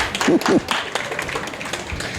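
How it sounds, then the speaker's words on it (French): An audience at a Guinean community gathering gives light, uneven applause, with scattered close claps and voices heard among them. "Applaudissez pour."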